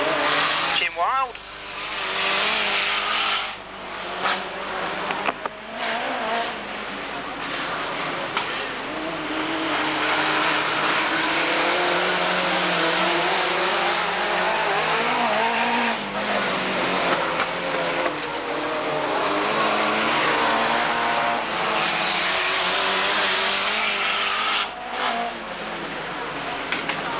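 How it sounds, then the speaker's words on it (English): Hot rod cars race the wrong way around a track at a 1991 Braintree Auto Club meeting, their engines making a continuous, fairly distant roar that swells and fades as the cars pass, with occasional revving. "Hot rods round the wrong way race"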